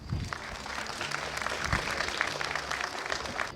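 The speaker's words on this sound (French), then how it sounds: "Sous vos applaudissements." Audience applause at an opening ceremony in Dakar: a dense, steady wash of clapping from a crowd, sustained throughout and fairly close, with faint voices mixed in.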